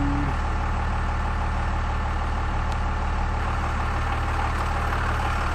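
A 12-valve diesel truck engine runs loud and steady at idle, its deep low rumble continuous and close throughout with no talking.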